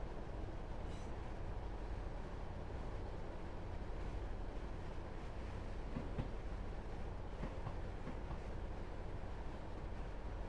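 A train crawling slowly toward Loughborough on the Midland Main Line in Train Sim World 3, a quiet steady rumble of running gear and track noise at constant level, no speech.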